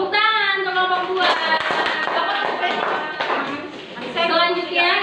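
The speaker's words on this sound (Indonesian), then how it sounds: "Tepuk tangan untuk kelompok 2." A classroom group claps together for the second student group, with rhythmic taps blending into loud, overlapping voices that chant or talk throughout.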